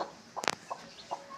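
Newly hatched country chicks from a Bhimavaram rooster's eggs give a few short, high peeps, including one louder burst of cheeping near the middle, with soft gaps and background hiss between.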